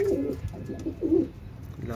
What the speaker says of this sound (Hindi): ये डबल है हमारा चीना कबूतर